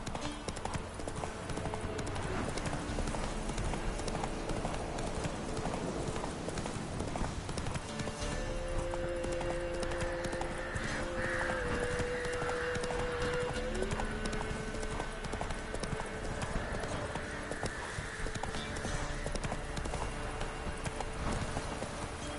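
Roach the horse gallops through The Witcher 3, steady rapid clip-clop of hooves running throughout, with an occasional faint snort and light ambient game sounds in the background.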